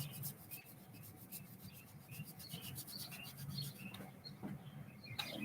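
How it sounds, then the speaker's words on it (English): Charred wood surface is scrubbed by hand, a faint continuous rubbing rasp with quick repeated strokes, alone with soft bird chirps in the background. "if it gets too dark, just keep scrubbing"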